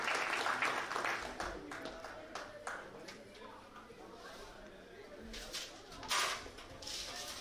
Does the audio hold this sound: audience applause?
yes